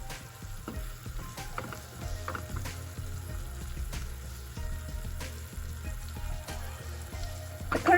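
Curry leaves dropped into hot oil for Gujarati handvo give a steady, close sizzle dotted with sharp crackles and clicking pops, with no voices.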